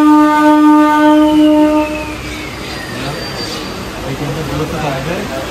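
A train horn sounds loudly for about two seconds, then wheels begin squealing and rolling as a passenger train slowly pulls away from Asansol station toward Jhalda, with faint voices in the background.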